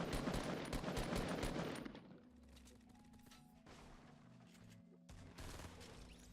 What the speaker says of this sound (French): Tirez à travers la fissure.